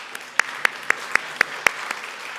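A church congregation claps together in a steady, even rhythm: about seven sharp, fairly loud claps spaced evenly apart over a low background hum.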